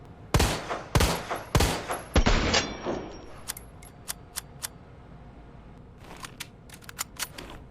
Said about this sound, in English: 26-shot 9mm handgun.